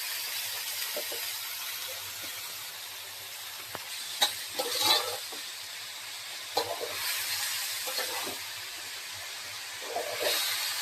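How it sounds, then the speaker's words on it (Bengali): Chopped cabbage with spices stirred in a frying pan, a constant soft sizzle and hiss broken by occasional scrapes and taps of the spoon against the pan. "এবার ভালো করে নেড়ে নিতে হবে।"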